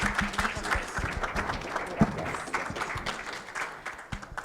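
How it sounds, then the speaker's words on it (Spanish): Audience applause at an electoral justice conference panel in Mexico, a moderate crowd clapping steadily with dense overlapping claps that taper slightly toward the end. "Un aplauso, por favor."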